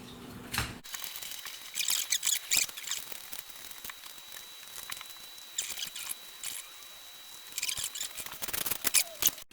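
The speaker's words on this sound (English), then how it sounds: "I'm just about done with the cutting of the third potato." A knife cuts and scrapes at a potato in a home kitchen, making soft irregular snips and scraping strokes in short bursts with quiet pauses between them, close and faint.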